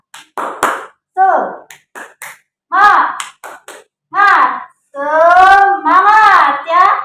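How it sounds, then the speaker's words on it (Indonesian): A primary school class performs the rhythmic 'tepuk semangat' clapping chant, sharp hand claps alternating with bursts of children's and a teacher's chanting voices in a quick, patterned beat. "hari ini kita buka dulu dengan tepuk semangat"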